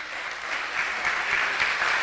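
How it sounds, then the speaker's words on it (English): A crowd applauds steadily, a dense wash of clapping that holds at an even, fairly loud level for the whole stretch. "I want to give you a big round of applause for that"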